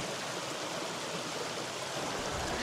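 River stream flowing past rocks near the bank, a steady close babble and rush of water, continuous and alone without talk.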